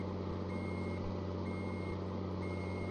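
A heavy truck in a mobile truck-simulator game gives off a steady, repeating electronic reversing beep, three evenly spaced tones over a constant low engine drone.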